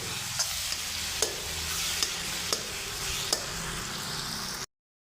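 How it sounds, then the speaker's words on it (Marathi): Ginger and garlic fry with masala in a pan for hotel-style paneer lababadar, giving a steady close sizzle with a few sharp spoon taps at regular intervals, before cutting off suddenly. "याच्यामध्ये थोडं आलं लसूण पण घालणार आहे ते देखील याच्यासोबत आपण फ्राय करून घ्यायचं आहे"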